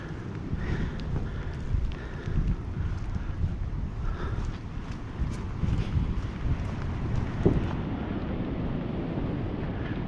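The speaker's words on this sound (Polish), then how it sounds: "wiatr mocny" Strong wind buffets the microphone outdoors near a large castle, a constant deep rumbling roar with gusty swells lasting the whole time, loud and close.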